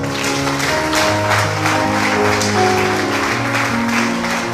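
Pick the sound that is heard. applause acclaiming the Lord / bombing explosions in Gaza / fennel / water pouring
applause acclaiming the Lord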